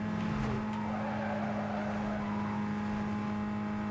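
Koenigsegg supercar in Need For Speed Most Wanted (2005) driving with a steady loud engine drone, a brief tire skid near the start, continuous with no voices.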